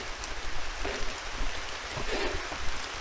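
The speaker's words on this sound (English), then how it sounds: "the rain is so crazy" Heavy rain falls in a steady, loud wash with dense patter on surfaces nearby, continuous throughout with no voices.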